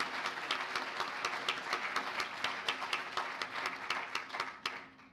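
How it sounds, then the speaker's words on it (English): An audience at a county business competition claps for the judges: a moderately distant round of applause with some distinct individual claps, even and sustained before tapering off at the end. "Let's give all of our judges one last round of applause."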